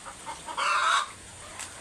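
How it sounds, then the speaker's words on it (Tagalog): A brooding hen gives a few soft clucks and one longer, drawn-out cluck, close by and fairly quiet. "ang update sa ating alagang manok na naglilimlim."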